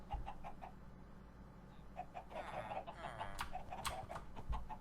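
Chickens at a Minecraft chicken farm give repeated short clucks over a steady low background hum, with faint talk alongside them.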